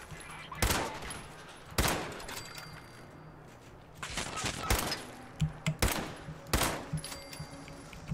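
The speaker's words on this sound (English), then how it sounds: "I'm gonna go ahead and activate my weapon. And let the shooting begin." Weapon fire in the video game Fallout 76: several sharp, loud bursts of gunshots in separate volleys, with a rapid cluster of shots near the end and quieter game ambience between them.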